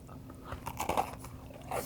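Crisp, close crunching as teeth bite through a chocolate chip cookie ice cream sandwich, several crackly bursts clustered in the middle and again near the end, with no talking.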